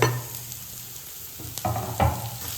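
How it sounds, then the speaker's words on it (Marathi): Chopped onion and green chili are sautéed in a pan, giving a low steady sizzle broken by a couple of louder scrapes and stirs of a spatula, close and fairly quiet. "कांदा पण तुम्हाला परतून घ्यायचा आहे चांगल्या प्रकारे"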